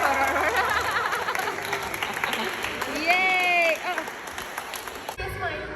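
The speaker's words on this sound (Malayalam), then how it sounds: "ആകാശങ്ങളിൽ നിന്നും കൈയടി." A crowd at a kids' charity kit-donation event claps steadily for several seconds, with cheering and voices mixed in, and a brief whistle-like tone partway through.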